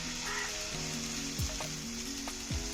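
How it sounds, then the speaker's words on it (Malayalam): Dosa batter poured onto a hot pan greased with ghee gives a steady, close sizzle that hisses evenly throughout, with a faint tonal hum underneath. "എന്നിട്ട് നമുക്ക് മാവ് ഒഴിച്ച് കൊടുക്കാം"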